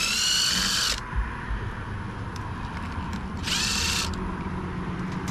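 An electric driver briefly whirs twice while backing screws out of the top plate of a Traxxas 2WD RC car. The bursts are quiet, short and separated, with a low background hum between them.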